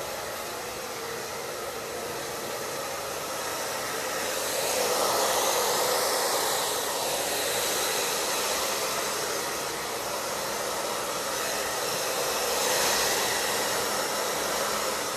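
A hair dryer blows steadily at close range while drying hair at the roots, a loud continuous whoosh that swells and eases slightly as it moves around the head.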